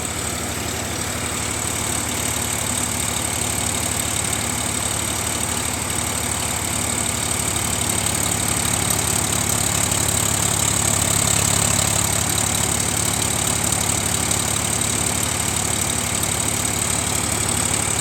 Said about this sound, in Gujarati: હવે આપણે ટ્રેક્ટરના સાયલેન્સર બાજુ આવીને તમને ટ્રેક્ટરનું ફાયરિંગ સંભળાવીએ